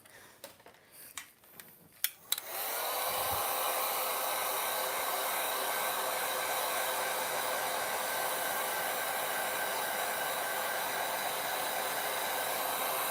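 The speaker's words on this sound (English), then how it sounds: "I'm going to get my dryer" A hair dryer switches on after a few clicks and rustles and roars on steadily, loud, close and continuous, while it dries a wet watercolour painting thick with colour.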